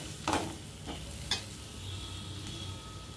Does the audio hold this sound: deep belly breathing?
no